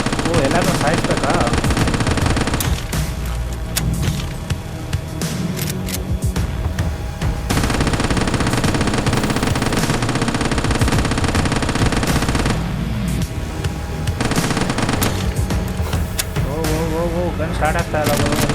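Rapid automatic gunfire in a zombie quarantine-zone video game, bursts of firing with brief pauses over a droning engine-like background and game music, with a player talking now and then.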